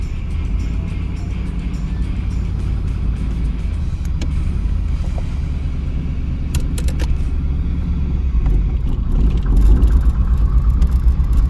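An LS-swapped 1989 Camaro engine runs with a continuous deep rumble, rising slightly in loudness toward the end.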